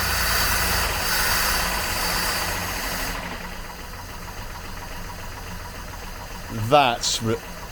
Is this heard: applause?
no